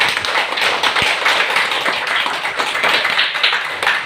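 Loud, dense applause from an audience at a network marketing seminar in India, steady clapping filling the room throughout with no talk over it.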